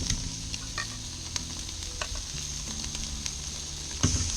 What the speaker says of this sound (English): listen to that terrific and very appetizing sounding sizzle as soon as the chicken hits the grates